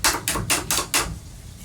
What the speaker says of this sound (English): I set my card scraper on the edge of my bench, screwdriver back and forth, make a ticker ticker sound.